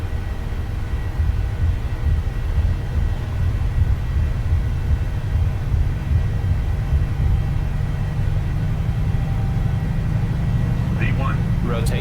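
Boeing 737-800 freighter jet engines at takeoff thrust, a loud continuous low roar that builds slightly, heard from inside the cockpit, with brief crew voices near the end.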